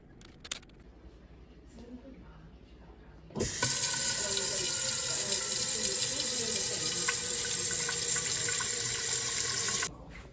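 Kitchen tap running into a sink while potato gnocchi with pesto is being made, a loud steady hiss and splash that starts abruptly, carries on for about six seconds and then stops.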